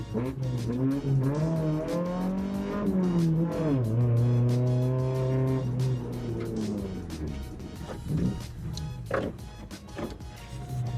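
A hillclimb race car engine roars loudly and close at Coronet Peak, pitch climbing and dropping through gear changes before easing off into lower revs.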